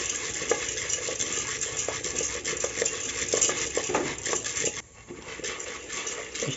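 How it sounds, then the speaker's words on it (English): A spoon stirs popcorn kernels in a pot on the stove, giving a steady, close scraping and rattling with faint sizzling underneath, continuous throughout with a brief dip near the end. "Stir it continuously."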